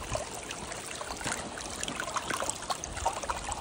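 Water trickles and dribbles gently during gold panning, a soft continuous flow close by with small splashes, no voices.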